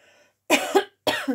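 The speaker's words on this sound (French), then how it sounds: "Je vais tousser" Two sharp, close coughs in a row, separated by a short pause, with a faint hum before them.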